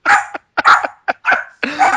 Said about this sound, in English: That dog's annoying as fuck.